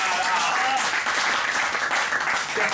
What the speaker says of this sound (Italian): Un grosso applauso per Sara Ruberti!